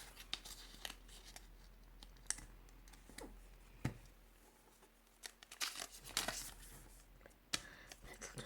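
Colored origami paper being folded and creased by hand, soft crinkles and sharp little snaps at irregular intervals, quiet and close.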